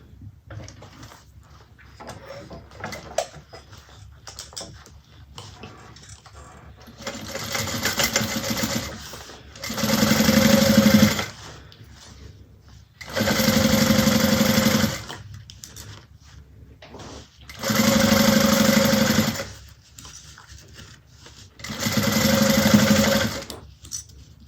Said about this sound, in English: we're going to sew that on at 3/8.